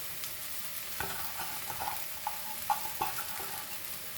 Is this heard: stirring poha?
yes